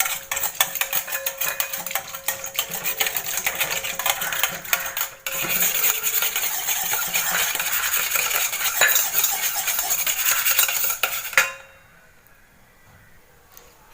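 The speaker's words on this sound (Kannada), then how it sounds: "ಬೀಟ್ ಮಾಡ್ತೆ" Curd for masala buttermilk is beaten in a vessel with a utensil, giving rapid, close clinking and stirring clatter for about eleven seconds before it stops and leaves near silence.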